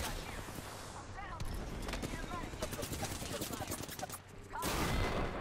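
Gunfire in the Apex Legends video game, dense rapid bursts of shots and impacts running through the clip with a player talking over them.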